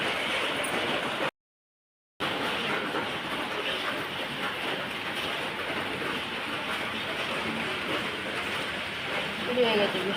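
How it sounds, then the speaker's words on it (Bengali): Steady rain falling outside a home, a dense continuous hiss filling the whole stretch apart from one brief gap of silence, with no voices over it. "কেমন বৃষ্টি শুরু হয়েছে।"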